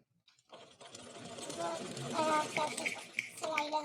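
A sewing machine stitches lace onto a trouser hem with a steady, faint mechanical whir that runs almost without a break while someone talks over it.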